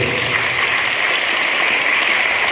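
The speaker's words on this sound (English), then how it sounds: "Please give him a nice big clap there" Students and staff at a school assembly clap for a student, a dense steady burst of nearby clapping that holds at an even level for a couple of seconds.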